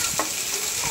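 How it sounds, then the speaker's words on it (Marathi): Carrots, capsicum and corn shallow frying in a pan, a steady close sizzle with a couple of soft stirring scrapes over a brief moment. "तर आता हे आपल्याला शॅलो फ्राय करून घ्यायचं व्यवस्थित"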